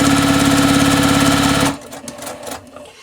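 Close and loud, a sewing machine stitches a quarter-inch seam around the edge of a fabric square, its rapid regular needle chatter running for over a second before cutting off into quiet handling noises.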